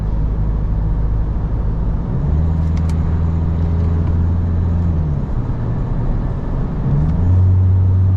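A 2025 Isuzu D-Max X-Rider 1.9 automatic bakkie hums steadily while cruising, a low constant engine drone with light road noise and a couple of slight shifts in pitch, heard from inside the cabin.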